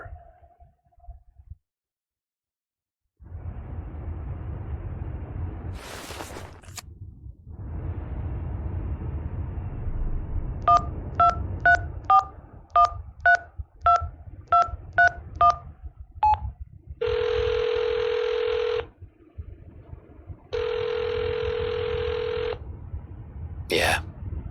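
A phone number is dialed in the Hitchhiker mystery video game: a quick run of about ten clean DTMF keypad beeps over background ambience, followed by two long ringback tones.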